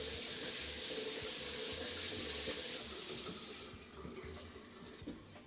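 Water pours steadily from a pair of newly installed dual shower heads in a small renovated bathroom, a broad continuous hiss that thins and softens near the end.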